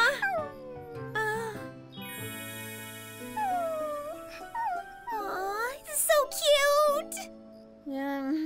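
A cartoon puppy whimpers and yips in high, wavering whines mixed with children's voices talking, with a brief music-like tonal bed underneath.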